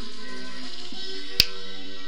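A single sharp finger snap from the video game Glover cracks out once, loud and crisp, over a steady sustained musical backdrop.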